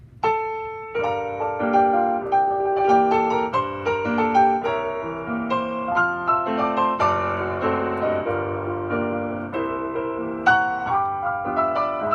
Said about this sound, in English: Okay, so the second piano, if I press it again,